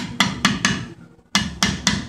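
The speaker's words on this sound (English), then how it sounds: "you want to get your hammer and tap right in between the studs." A hammer strikes a rusty brake drum between the wheel studs on a Ford F150 pickup truck, giving six loud, sharp metallic taps in two groups of three with a short pause between them.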